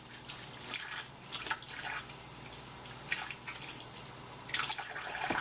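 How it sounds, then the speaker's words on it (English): Hands washed under a running kitchen tap after cooking buffalo meatballs, a soft, uneven splash of water with brief louder bursts as the hands move through the stream, fairly quiet and with no talking. "And wash my hands real quick."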